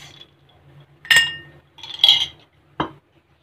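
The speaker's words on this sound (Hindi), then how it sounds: "सबसे पहले मैं इसमें डाल रही हूँ आइस" Ice cubes dropping into a glass for a homemade summer lemon-Sprite drink, a few separate clinks and clatters spaced about a second apart, close and fairly crisp, with no talking.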